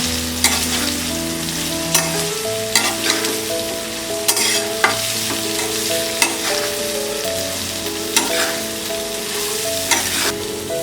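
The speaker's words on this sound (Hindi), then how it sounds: "इसमें डालेंगे ये कॉलीफ्लावर, मिक्स कर देते हैं।" Cauliflower frying in a pan for a Maharashtrian-style sabzi, a loud continuous sizzle with regular spatula scrapes every second or two, a steady tonal hum beneath, no speech.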